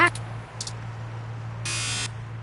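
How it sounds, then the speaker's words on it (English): A door buzzer in 2064: Read Only Memories gives a short harsh burst, then a longer loud buzz over a low steady hum. "We need to use the buzzer to get inside."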